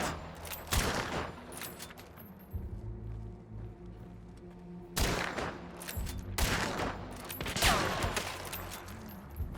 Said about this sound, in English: I'm gonna challenge them at like 80-90 meters with my Winfield